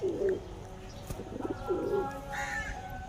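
Domestic racing pigeons at a Nagpur pigeon-flying loft coo in low, throaty bursts, three or four rolling calls close by, with a brief higher chirp toward the end.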